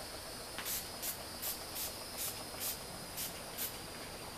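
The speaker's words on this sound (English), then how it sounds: "Urban Decay All Nighter Makeup Setting Spray." Urban Decay All Nighter makeup setting spray misted from a pump bottle in eight quick, evenly spaced hissing bursts, soft and close against a quiet room.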